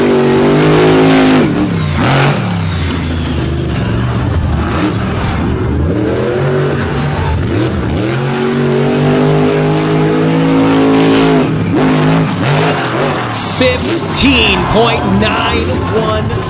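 Drag race cars at Fowlerville, including Jim Kohler's Avenger, accelerate hard down the strip; loud, continuous engine roar with rising pitch sweeps and revs, layered under commentator talk throughout.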